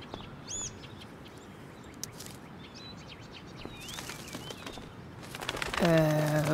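Birds chirp and tweet sparsely over a faint outdoor ambience in the video game Life is Strange Before the Storm, and a louder, tonal bird call swells near the end.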